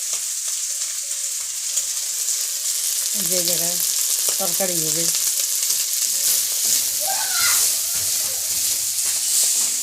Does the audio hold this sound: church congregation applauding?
no